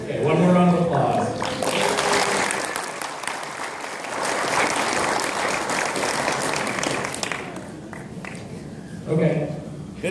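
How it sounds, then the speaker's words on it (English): Applause at an awards ceremony: a long, dense stretch of audience clapping that swells and holds, with a voice speaking briefly before and after it. "one more round of applause"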